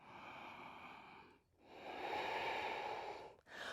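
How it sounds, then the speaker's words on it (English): Slow, deep yoga breaths during a vinyasa flow, close and steady: a long airy inhale-exhale cycle, a brief pause near the middle, then another full breath swelling and fading, with no talking. "One more full deep breath"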